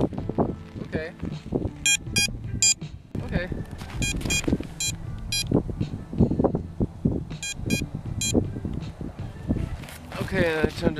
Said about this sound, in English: And as you get closer, you can hear it's beeping.